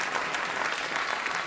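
Studio audience at a late-night talk show applauds in a steady, dense wash of clapping that stays even and moderately loud throughout, with no talking.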